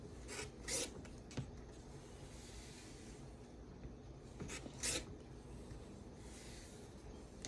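A rotary cutter trimming a fabric quilt block against a square-up ruler, giving quiet, close rasping slices in a few short strokes separated by soft rubbing of fabric on a cutting mat.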